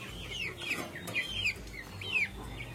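Brahma chickens cluck and chirp at feeding time in a backyard coop, a steady run of short, mid-pitched calls repeating close by without pause.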